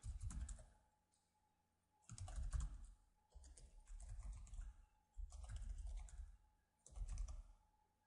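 Bursts of rapid typing on a computer keyboard come in four or five separate clusters with short pauses between them, close and fairly quiet.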